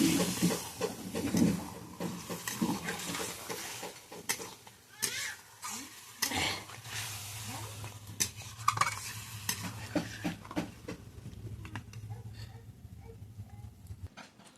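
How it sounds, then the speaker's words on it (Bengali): A ginger, garlic and green chili spice paste being slowly stirred and sautéed in a pan, with continuous close sizzling and repeated spatula scrapes, plus faint background sounds. "এবার আস্তে আস্তে কষানো হবে"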